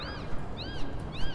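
Two cats scuffling in Little Kitty, Big City, giving three rising-and-falling meow-like cries over a dense, steady background noise.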